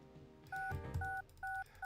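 Touch-tone dialing beeps from a phone in the Spy Fox Dry Cereal video game: three clean, evenly spaced tones sound close and clear over a low background rumble, with no talking.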